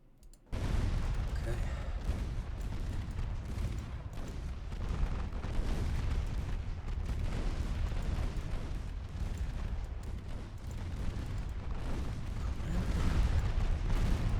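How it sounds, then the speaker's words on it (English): Battleship secondary guns in the naval game Ultimate Admiral Dreadnoughts firing, a continuous dense rumble of booms and blasts that starts abruptly and holds loud and steady throughout. "Battleship secondaries are slowly ripping this ship apart."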